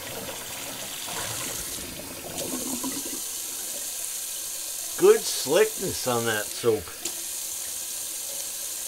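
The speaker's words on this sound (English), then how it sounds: "Let's do a little cold water rinse." Tap water runs from a faucet into a sink for a cold rinse after a wet shave with soap, a steady hiss that fades partway through before someone comments briefly over it.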